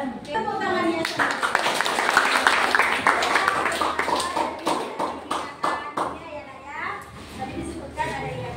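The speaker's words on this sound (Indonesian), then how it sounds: "Tepuk tangannya semua." A class of senior high school students clapping together in a classroom at SMAN 3 Bangko, Riau. Brisk, close group applause swells and then fades, with children's voices mixed in.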